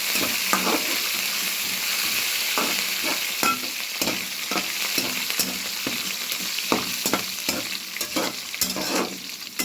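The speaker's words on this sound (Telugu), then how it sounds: "జీడిపప్పు తర్వాత కాస్త కరివేపాకు వేసి కొంచెం వేయించుకుందాం" Cashews and curry leaves sizzling in hot oil in a pan for coconut rice, a bright continuous crackle broken by frequent spoon scrapes and taps, close and fairly loud with no talking.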